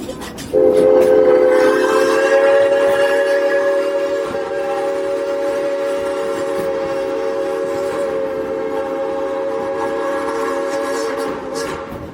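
A long, loud, steady steam locomotive whistle blast with a bright chord-like tone sounds for about eleven seconds over faint rumbling and clicking of the train.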